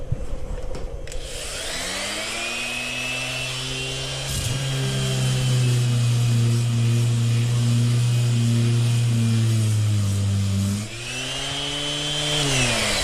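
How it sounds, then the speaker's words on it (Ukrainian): A 240 W random orbital sander, powered through a 12-220V modified sine wave inverter, hums steadily, spins up to a louder, higher whine for several seconds, then briefly drops and resumes running close by. "Так, ексцентрикова шліфмашина."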